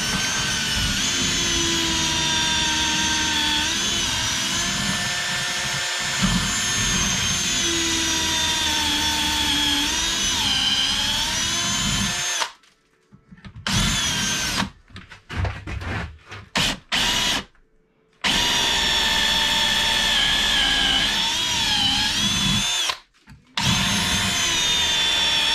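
A well-used drill bit bores into metal plate with a loud, steady high-pitched whine, cutting out briefly several times midway before resuming.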